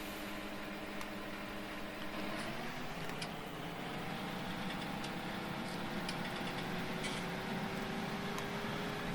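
A tractor engine idles steadily in Farming Simulator 19, a continuous low hum whose pitch shifts up slightly partway through, with faint clicks scattered on top.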